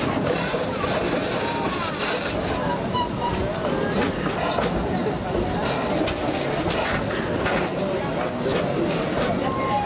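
A Busch Gardens tour train in Tampa, Florida rolls steadily through an animal area, its continuous rumble and rattling running beneath a guide's narration the whole time.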